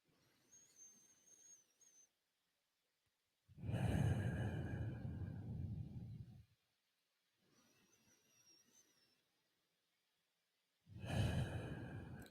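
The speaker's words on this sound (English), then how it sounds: "we start to take control over our breath and bring consciousness into the act of breathing" Slow, controlled meditation breathing, close and quiet: long airy exhales alternate with softer whistly inhales, separated by pauses of near silence.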